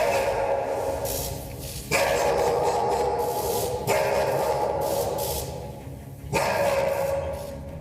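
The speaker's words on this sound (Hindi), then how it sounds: "अकीटा नाम का यह कुत्ता जोर जोर से भौंकने लगा।" An Akita dog barks loudly in several bursts, with brief pauses between them and a steady, noisy background throughout.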